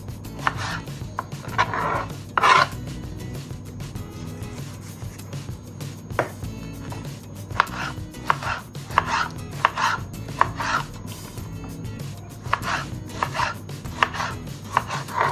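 Knife chopping vegetables into small cubes on a board for Turkish menemen, a steady run of crisp, close cuts in short bursts with brief pauses, no talking.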